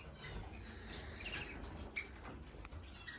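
Finches in an indoor bird room give bright, high chirps in quick bursts, followed by a sustained thin trill with rapid pulsing notes. The birds sound close and clear against a quiet room.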